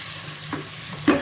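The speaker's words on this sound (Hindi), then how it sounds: "हमारे टमाटर जब हल्के से थोड़े से सौते हो जाएंगे, थोड़े से नरम हो जाएंगे" Chopped tomatoes sauté in a pan for daal mash, a soft low sizzle with two brief stirring scrapes, the second one louder.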